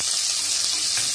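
Rice washed in water gives a brief, steady watery splashing and swishing, close and continuous, with no talk.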